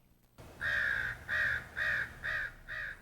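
Crows call outside a home in Cache Valley, giving five loud, clear caws in a steady rhythm, close by and with no talk over them.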